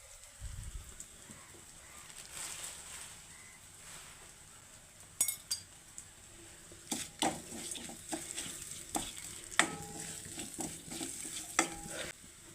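Small shallots with coriander powder and spices sautéed in a pan: a quiet, soft sizzle under frequent spoon scrapes and light metallic clinks that grow busier as stirring continues.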